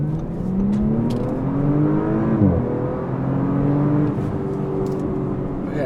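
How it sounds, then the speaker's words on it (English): A 2021 Audi RS4 (B9) engine revs and accelerates loudly nearby, its exhaust note rising, dipping briefly, then climbing again in steady throaty drones. "You can hear the exhaust as well, you know, you really can hear it."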